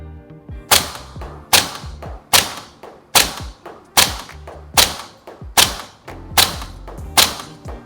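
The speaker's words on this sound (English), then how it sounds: "30 meters, 10 round grouping test. Okay, firing in 3, 2, 1, go." A Maruyama ISO556 airsoft rifle fires 0.45 g BBs in a 30-metre grouping test, ten evenly spaced sharp snapping shots at a steady deliberate rhythm, each a loud crisp crack with a short mechanical thump, no talking between them.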